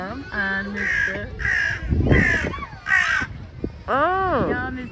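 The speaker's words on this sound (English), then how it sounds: "Crows, wonderful." Crows cawing on a windy day while birds are being fed, several harsh caws in a loose series with gaps, fairly close and loud, while a person talks throughout.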